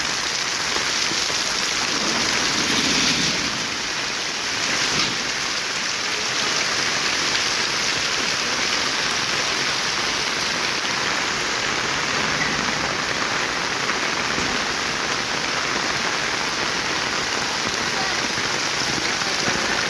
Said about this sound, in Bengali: মুষলধারে বৃষ্টি, ছাতা ভেতরে বৃষ্টি পড়তেছে